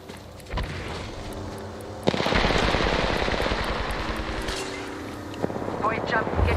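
Rapid bursts of video game gunfire rattle through a busy firefight in an Apex Legends style battle royale, a sharp onset midway leading into dense, continuous shooting while players talk over it.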